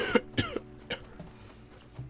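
A person coughs a few times, a sharp close burst followed by smaller coughs and throat-clearing sounds, spaced out over about two seconds with no talking.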